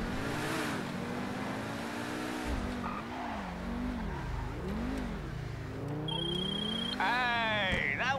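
A car driving in GTA Online, its engine revving up and down through gear changes with a loud, steady roar and tire noise throughout, and a higher whine near the end.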